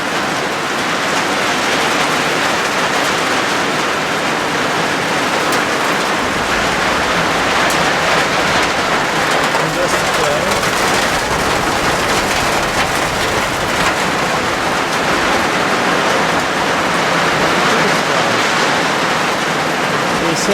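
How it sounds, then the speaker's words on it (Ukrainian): Heavy rain pours into a yard in a dense, unbroken hiss that stays loud and steady throughout, with no pauses or distinct drops standing out. "Дощ йде на подвір'я, вмиває землю."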